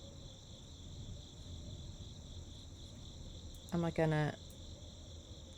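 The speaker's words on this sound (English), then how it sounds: "There's a chirping sound from over here." Crickets in The Darkside Detective game, a steady high chirping drone running throughout at a soft level, briefly interrupted by a man's short spoken phrase near the end.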